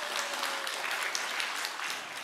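Audience applause at a church new-members invitation seminar in Incheon/Bucheon, a steady wash of many hands clapping at even loudness throughout, with no voices standing out.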